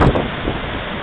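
Roaring River Falls in Kings Canyon gives a loud, steady, broadband roar of rushing water, with wind buffeting the microphone at the start.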